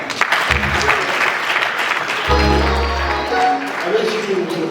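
A church congregation at a gathering breaks into applause, bursts of clapping rising and falling around a person speaking loudly over the crowd.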